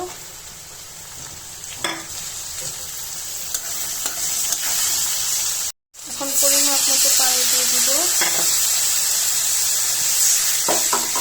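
Potatoes and onions frying with spices for a rohu fish and brinjal curry, a steady hissing sizzle with scattered stirring scrapes, briefly cut off then resuming louder and close.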